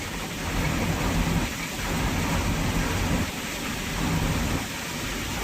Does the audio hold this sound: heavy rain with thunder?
yes